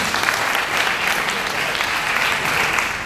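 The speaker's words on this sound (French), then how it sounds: "Acclamons pour lui" A church congregation applauds in a service, a dense, steady wash of clapping from many hands that holds evenly throughout.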